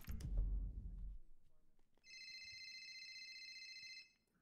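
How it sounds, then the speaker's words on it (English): A phone rings for an incoming call, a steady electronic ringtone lasting about two seconds after a brief low rumble, heard alone at moderate volume. "Can I just answer this phone call to let them know I'm okay?"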